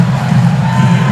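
A volleyball crowd at a men's college championship quarterfinal between Hawaii and Penn State cheers after a point, a loud sustained roar of many voices, brief and dense, filling the arena.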